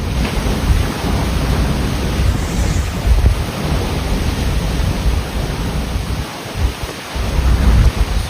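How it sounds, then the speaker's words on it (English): Super Typhoon Bavi's storm wind and heavy rain roar in a dense, steady wash of noise with deep low rumbling gusts throughout. "Super Typhoon Bavi starting to impact us here."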